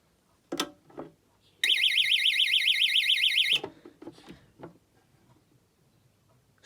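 A Texecom Odyssey 3 alarm bell box sounds a loud warbling siren for about two seconds during a test, cut off abruptly, with a few knocks and handling clunks before and after.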